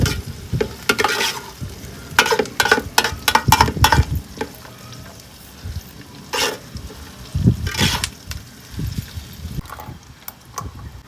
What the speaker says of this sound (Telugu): ఫస్ట్ ఇవన్నిటిని అయితే బాగా నూనెలో వేపుదామండి